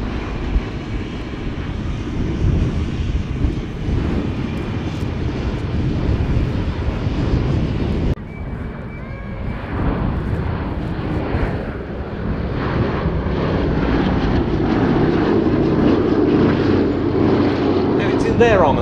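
A Boeing B-17 Flying Fortress at the Abingdon Air and Country Show drones overhead with a loud, steady multi-engine roar, swelling and shifting as it passes, under a commentator's voice and wind buffeting.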